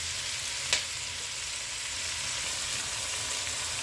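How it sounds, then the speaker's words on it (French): Fumbwa with smoked cotis cooks in a covered pan, giving a steady, soft sizzle and simmer throughout with one brief faint click near the start. "Je couvre ma casserole et je laisse cuire pendant au moins 2 minutes."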